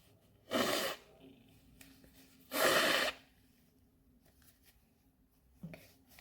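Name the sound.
person blowing their nose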